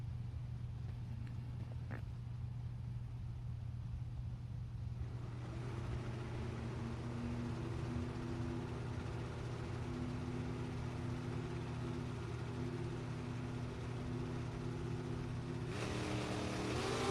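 A Corvette drag racing car at a drag strip event, a steady engine drone with a low rumble that rises into a stronger, layered revving tone partway through, heard from a distance with no talk over it.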